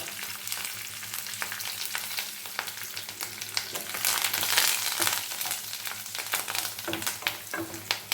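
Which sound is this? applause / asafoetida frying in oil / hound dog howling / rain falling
asafoetida frying in oil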